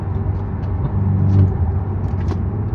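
Steady low engine and exhaust drone heard from inside a BMW G20 330e with catless downpipe, catback exhaust and Stage 1 tune, muffled and even, swelling slightly in the middle before settling back.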